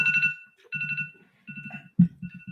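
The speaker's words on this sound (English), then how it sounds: "that's my alarm, and you should have an alarm too." An alarm rings in short repeated trilling bursts separated by brief gaps, fairly loud and close, with no voices over it.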